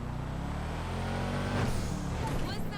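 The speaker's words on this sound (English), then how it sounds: "just listen to this engine." Modified Sultan RS car engine in a video game, running steadily with a low harmonic drone and a slight rev swell midway, with a faint voice underneath.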